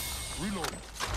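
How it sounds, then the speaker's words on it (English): A weapon reloading in the shooter Apex Legends: a quick series of mechanical clicks and ratcheting clacks, close and crisp, lasting about a second over a steady game backdrop with a brief voice-like murmur. "Reload."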